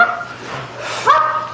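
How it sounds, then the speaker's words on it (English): A dog barks and yips a few times amid noisy background sound during a police search, the calls fairly close and loud, with some commotion around. "Let K9 get the dog, man."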